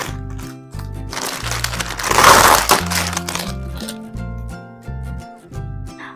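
Scissors cut plastic packaging that crinkles and crackles, loudest in a burst near the middle, over background music.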